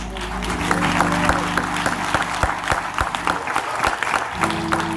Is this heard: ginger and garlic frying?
no